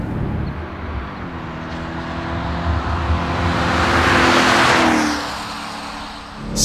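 A Dodge Durango SRT Hellcat or Mercedes-AMG GLS 63 in sport mode drones loudly and climbs in pitch as it accelerates, then eases off near the end.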